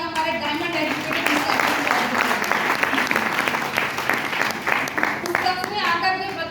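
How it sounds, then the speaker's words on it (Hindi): Loud, sustained clapping from a crowd at a Hindi-language direct-selling business gathering, a dense steady roar of many hands running throughout with some voices mixed in. "तो एक बार जोरदार तालियां हमारे डायमंड एजुकेटेड"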